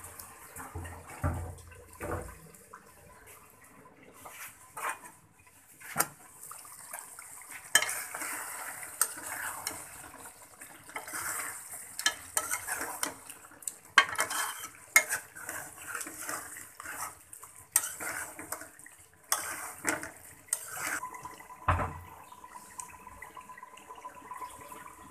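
Spiced meat being stirred and slow-cooked in a pot over a lowering gas flame for a festive New Year dish, with scraping and clinking strokes against the pot at an irregular pace, plus a soft background sizzle.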